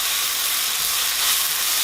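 Pork meat hits a hot pan with ginger and garlic for pork dumpling filling, giving a steady, close, bright sizzle that holds evenly for about two seconds with no talking.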